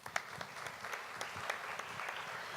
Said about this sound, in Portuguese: Então, uma salva de palmas para ela.